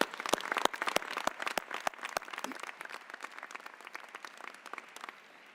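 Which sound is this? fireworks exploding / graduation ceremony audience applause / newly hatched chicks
graduation ceremony audience applause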